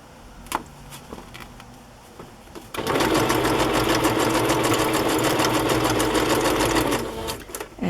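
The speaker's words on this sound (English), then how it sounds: "I'm going to sew that one down first." Sewing machine stitching a fabric piece onto a shabby-style journal cover, starting after a few quiet seconds of handling noise and running as a loud, steady rapid whirr for about four seconds before slowing to a stop.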